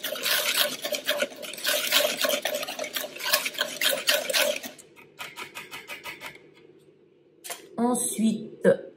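A whisk beats cane sugar and a pinch of salt together in a bowl for cannelé batter, with fast, steady scraping strokes for about five seconds, then sparser, softer clinks. A voice talks over the sound.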